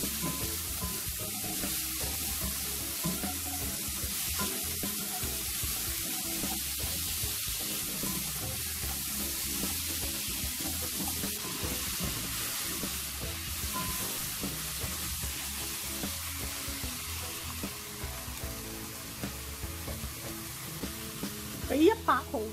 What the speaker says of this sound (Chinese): 咁我哋俾少少姜片落去，打爆呢个冬瓜。